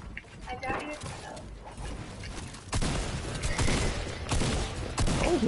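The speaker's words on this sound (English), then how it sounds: "Oh, they're shooting." Gunfire in an online battle-royale shooter, a dense crackle of shots that swells louder about halfway through, heard under ongoing talk from players.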